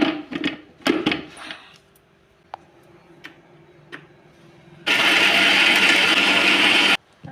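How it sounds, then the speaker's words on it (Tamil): Nut and milk juice in a blender: a few clatters and taps of the lid and jar come first, then the motor roars loudly and steadily for about two seconds before cutting off abruptly, with no talk. "மூடி போட்டு மூடியாச்சு. இப்போ நம்ம அரைச்சிடலாம்."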